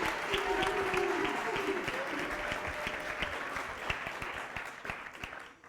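An audience at the Yosemite Facelift event applauds steadily for speaker Molly Mitchell, a dense sustained clapping from a sizable crowd that fades out toward the end, with a few voices mixed in.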